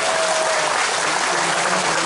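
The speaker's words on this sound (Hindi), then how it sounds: "एक जोरदार ताली हमारे मुख्यमंत्री जी के लिए" A crowd at a BJP political rally claps loudly and continuously, a dense burst of applause close up with no voices over it.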